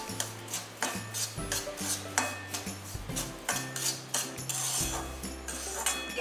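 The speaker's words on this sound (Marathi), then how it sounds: "थोडा रंग बदलेपर्यंत आपण रवा भाजून घेणार आहोत." Semolina (rava) being dry-roasted over low heat for Raghavdas ladoo, with a utensil scraping and clinking against the pan in quick uneven strokes, close and moderately loud.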